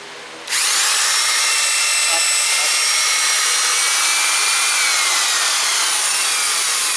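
A power drill whines loudly and continuously as it bores into wood while building a crane for a Woodmizer LT15 sawmill, starting abruptly after a brief quieter moment.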